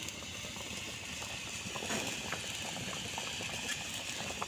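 Fish curry broth boiling in a pot, a continuous close bubbling with soft irregular blips and a hissy wash, steady throughout and without voices.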